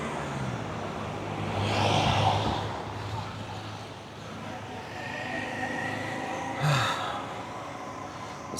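A tiny local minibus bound for Marmaris rumbles along a street in Icmeler, Türkiye, its engine swelling as it passes nearby amid general traffic hum and faint breathy sounds from someone close by.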